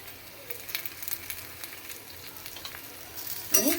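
Cut okra and onion frying in a pan give a quiet, uneven sizzle with scattered pops and crackles, then a louder burst of hissing right at the end.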